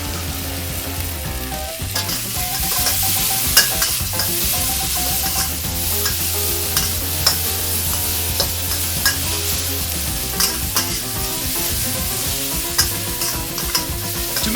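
Marinated tofu cubes, mushroom and carrot sizzle and crackle in a hot wok, with a steady frying hiss and frequent scraping, clattering stirs from a spatula, close and loud throughout.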